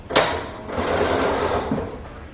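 A sewing machine runs a short, steady burst of stitching through fabric for a caftan cover-up, loud and close with no voices.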